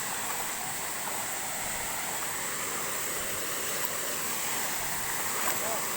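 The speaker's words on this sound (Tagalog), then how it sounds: "Medyo maliit lang, hindi gaanong kataasan yung falls." A small, low waterfall gives a steady, even rush of falling water that stays constant throughout, heard from a short distance with no distinct splashes.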